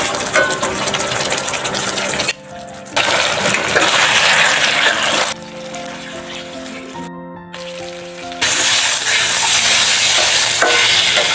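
Ginger and cumin spice paste fries in a pan with a little water, giving a continuous close sizzle and scraping stirring in long stretches, broken by brief near-silent gaps.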